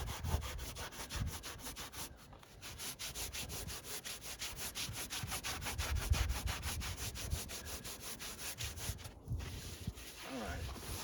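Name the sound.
hand sanding foam for a fiberglass mold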